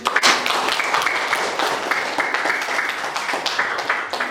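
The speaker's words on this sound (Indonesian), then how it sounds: "terima kasih kepada Ukti Salsa, tepuk tangan" A classroom of students claps for Ukti Salsa, a loud, ragged burst of many hands that holds steady for several seconds, close and lively, with a few voices mixed in.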